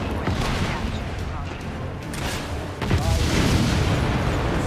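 Rocket blasts in Just Cause 3 rumble with deep, heavy booms and a dense fusillade of bursts, loud and close, the barrage surging again near the end.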